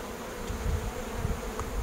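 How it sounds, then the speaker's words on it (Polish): A dense, steady buzz of honeybees humming close by around phacelia and sweet clover, continuous and moderately loud with slight wavering. "Pszczoły tutaj szaleją."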